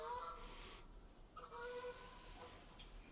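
Wild geese honk overhead in several scattered calls, fairly distant and faint, against a quiet outdoor background during a goose hunt.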